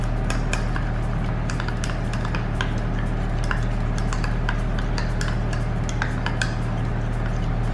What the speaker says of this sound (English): Next thing is just to mix all this all together.